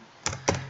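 Two crisp, close keystrokes on a computer keyboard while working in SketchUp, evenly spaced clicks over quiet background.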